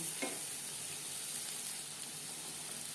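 Onions frying in a pan for dal fry make a steady, even sizzle that carries through to the end, with a brief scrape of stirring near the start.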